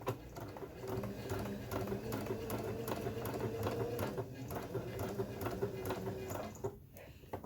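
A domestic sewing machine stitches fabric with a fast, steady mechanical whir and rapid needle chatter, heard close-up and running continuously before stopping near the end.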